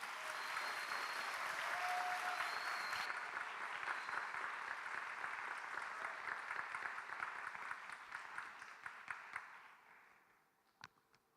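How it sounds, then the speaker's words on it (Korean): Sustained applause from a church youth summer retreat crowd welcoming a pastor to the stage, steady dense clapping that gradually thins and fades out near the end. "우리 고삼섭 목사님 나오실 때에 우레와 같은 박수로 맞이하겠습니다."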